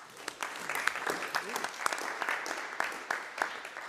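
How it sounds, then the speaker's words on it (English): Applause from a board of trustees meeting audience honoring retiring member Thomas Jarvie, a steady wash of many hands clapping at moderate distance, fairly soft, with scattered sharper claps and a little voice underneath. "if everyone could join me in a round of applause for Thomas Jarvie"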